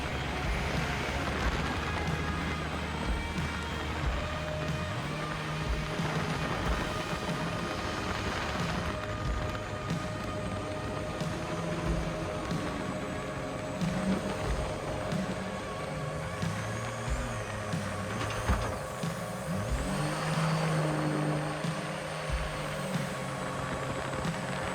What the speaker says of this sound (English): Our boat is a 12-foot Jetstream Buccaneer with a 260 Sea-Doo jet ski motor.